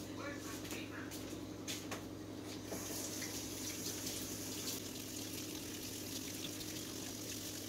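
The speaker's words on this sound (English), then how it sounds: "I'm actually going to step over here to my sink and rinse all these pumpkin guts off of my hands." Kitchen sink faucet running steadily while pumpkin pulp is rinsed off hands, a constant broad wash of flowing water with a faint hum underneath, slightly changing in tone partway through, no speech.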